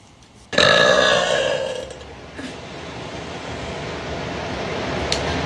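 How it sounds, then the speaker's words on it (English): A woman lets out a single loud, long burp that starts abruptly and fades after about a second and a half, followed by quieter room noise. "y'all know how loud I burp."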